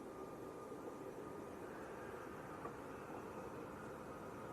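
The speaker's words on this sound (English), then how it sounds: "Ryanair just starting to roll." Heard from a distance at Leeds Bradford Airport in the evening, a Ryanair airliner begins its takeoff roll. The jet engines make a faint, steady, broad rumbling roar that continues without a break.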